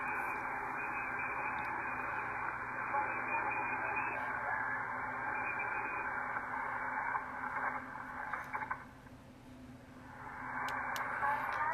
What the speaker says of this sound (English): wait till the interference comes back